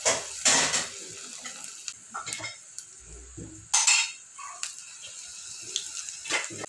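Onion bhaji batter sizzles and crackles in hot oil in a home kitchen, with a steady frying hiss broken by brief clinks and stirring sounds from a utensil.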